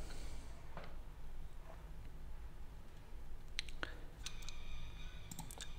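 A computer mouse clicks while enabling a Firebase database option, giving a few sharp, close clicks near the end over a quiet room hum.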